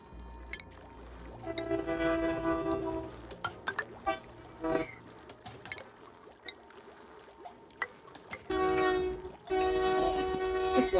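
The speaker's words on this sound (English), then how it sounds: "There's also another train coming by, so pardon that." A train rolls past with a low rumble and clattering wagons, and its horn sounds in several loud, sustained blasts, the last ones long and strong near the end.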